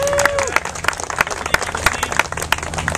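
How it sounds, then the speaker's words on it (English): A small group at a work meeting claps briskly for a few seconds for a colleague, close and lively, after a brief voice at the start. "Everyone clap for Matt, okay?"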